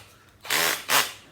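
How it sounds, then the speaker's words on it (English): A cordless drill fitted with a pocket-hole joinery bit gives two short, loud whirring bursts as the chuck spins and locks the bit in, close by and with no voices. "and that locks the drill in."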